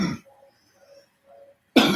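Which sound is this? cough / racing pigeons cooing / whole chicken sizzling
cough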